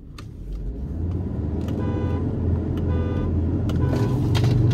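A Ford Endeavour 3.2 and a Jeep Compass 2.0 launch in a drag race, engines droning and building steadily in a low rumble, with brief horn-like tones above and no talk.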